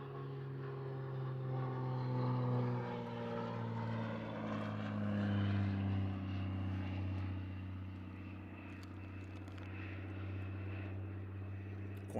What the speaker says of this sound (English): as it comes in straight at us, you can hear the throaty roar of the of the Lycoming 580 315 horsepower engine.